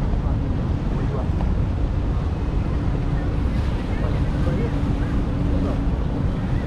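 Boat pulling away from a Miami marina, a steady low engine and water rumble with wind buffeting the microphone throughout, continuous and fairly loud.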